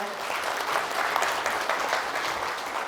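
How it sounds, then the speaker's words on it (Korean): An audience at a religious federation's founding ceremony claps steadily, a dense and even wash of applause that holds for the whole stretch without a pause. "여러분 큰 박수 보내주시기 바랍니다."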